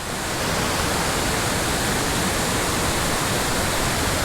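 A wilderness waterfall pours in a steady, loud, hissing roar that swells in within the first half second and then holds constant, close and unbroken, with no voices.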